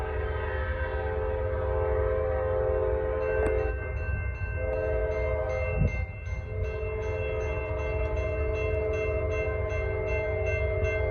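Norfolk Southern freight train NS154 rolls past on the Charlotte District, its loud horn sounding over the steady rumble of wheels and cars, with a sharper crack partway through and a busy rattle continuing to the end.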